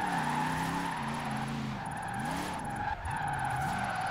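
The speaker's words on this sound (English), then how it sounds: "see how smooth I can slide this thing" A car drifts in Forza Horizon 4 with tires squealing and skidding in long wavering screeches over a steady engine tone, loud and continuous throughout the slide.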